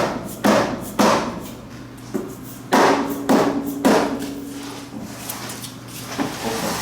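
A small hammer taps on the front cover of a 2011 Honda CR-V gearbox to work it loose, giving a handful of sharp metallic knocks in irregular pairs with quiet gaps between them.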